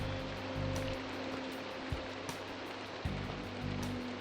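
Rain falling in Minecraft on a Gregicality Skyblock map, a steady hiss of drops with a low background tone and a few faint clicks, no talking.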